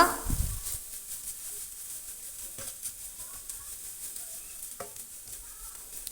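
Crushed coconut mixed with fennel seed, black pepper and garlic is stirred into a hot pan for a clam meat roast, giving a faint, steady sizzle with a few soft spatula scrapes after an initial louder clatter.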